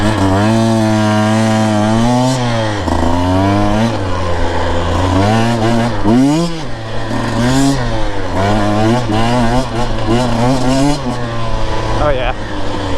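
A Husqvarna TE 150 TBI two-stroke motorcycle engine runs close by, with a steady buzzing drone and small throttle swells coming down to a settled idle, loud and continuous throughout.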